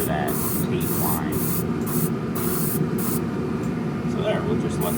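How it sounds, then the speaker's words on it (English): Spray paint goes on in a light coat over a Revell 1968 Pontiac Firebird 400 model kit, heard as a regular series of short, close hissing bursts over a steady background hum. "I'm just giving it a light coat to start out with. Here's the angle I'm spraying from."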